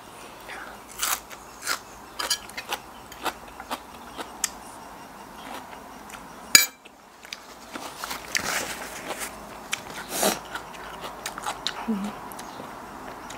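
Fresh, crunchy home-grown vegetables eaten outdoors behind a house, with repeated close crisp bites and chewing crunches in an irregular rhythm, accompanied by occasional rustling and one sharp louder crack midway.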